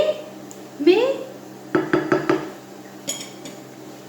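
Stuffed aubergines being set gently into a pan of smooth sauce in a home kitchen, with a few light knocks and clinks of food and utensil against the pan, close and fairly quiet.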